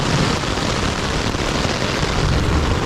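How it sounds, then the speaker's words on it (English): Heavy wind-driven rain lashes a tent on a Missouri River canoe trip, a dense, loud, continuous roar of drumming water with no voices. "It's like raining so hard from the side that I can feel the rain coming in where the zipper is."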